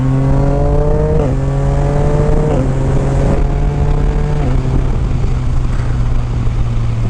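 A Yamaha Niken three-wheeled motorcycle with an Akrapovic exhaust accelerates hard, its loud, close engine note climbing and then dropping sharply at each quickshifter gear change, with about three upshifts in quick succession.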